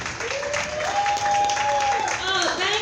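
A comedy-show audience applauds comedian Jasmine Bautista as she is introduced, with a steady wash of clapping and crowd noise and a sustained whistle running through the middle.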